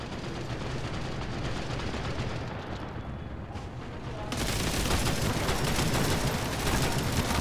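Continuous dense gunfire and battle noise in the World War Heroes video game, a steady wash of overlapping shots that grows louder and harsher partway through.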